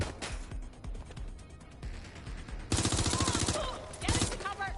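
Gunfire in the video game Watch Dogs: Legion: a scattered run of shots gives way to a dense, loud burst of rapid automatic fire midway, pausing briefly before resuming, with faint voices under the action.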